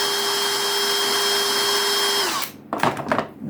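A power tool, likely a drill-driven sander, runs steadily at close range while bevelling the edges of a wooden knife handle, then cuts off abruptly and leaves brief handling clatter.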